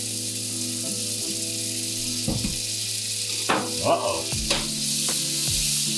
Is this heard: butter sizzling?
yes